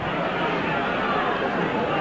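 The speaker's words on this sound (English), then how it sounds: "The crowd at the far side, obviously the Keighley contingent in the area in vision, and they're not particularly happy with that." At a rugby league match between York and Keighley at Ryedale, York, a crowd of Keighley supporters murmurs and grumbles in a continuous, dense babble after a penalty.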